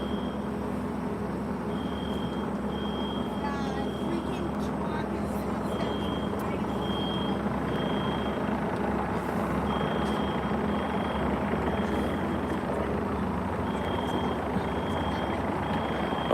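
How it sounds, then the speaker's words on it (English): A reversing truck gives off a faint, regularly spaced high beeping that repeats several times. It comes through a rumbling outdoor background, and voices talk nearby. "And that truck just got in their shot."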